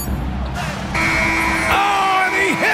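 End-of-quarter buzzer in a basketball video game, a sustained electronic tone sounding over crowd noise and commentator speech, clear and fairly loud.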